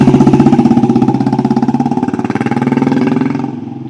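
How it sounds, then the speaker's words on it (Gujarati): A Royal Enfield Bullet motorcycle engine thumps in a steady, even beat, close and loud with no voices, easing off slightly just before the end. "પછી આપણે યશરાજસિંહના બુલેટનો એક આટો મારી લીધો."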